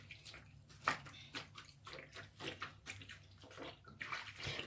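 Water running and splashing as a wig is rinsed, irregular gushes and drips close by, with no talking.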